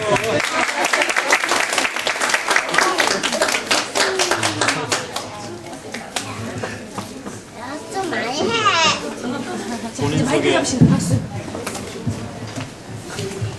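Audience at a family worship seminar applauds a presenting group, brisk clapping at the start that fades as voices and chatter take over, with people talking through the rest.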